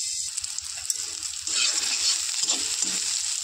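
Eggplant fries with salt in a covered pan, a steady bright sizzle with soft stirring scrapes and a low rhythmic pulse underneath, growing a little louder partway through.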